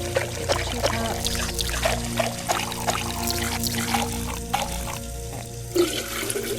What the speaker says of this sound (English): I don't like that the water is just running.